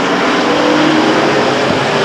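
Race cars roar down the backstretch at Stockton 99 Speedway, a loud continuous engine drone filling the air with no break, like a pack running single file at speed.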